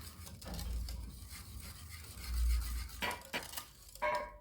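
A utensil stirs a coconut flan mixture in a bowl with soft swishing and a few light clinks. The sound is close and quiet over a low background hum.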